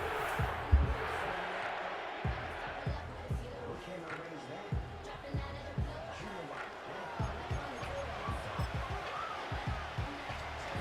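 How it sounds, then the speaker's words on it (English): Stadium crowd noise in the Madden NFL 25 video game, a steady roar of cheering that swells late in a football game, with a dense low rumble and repeated thumps beneath it. "The crowd cranking it up another notch."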